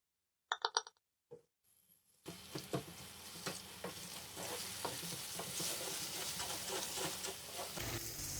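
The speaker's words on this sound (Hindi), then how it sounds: "मसाले को हमने 2 मिनट भून लिया है।" A few sharp clinks sound against a pan, then turmeric powder, red chili and salt hiss and sizzle steadily in hot oil as they are roasted for a potato karahi, with stirring scrapes throughout.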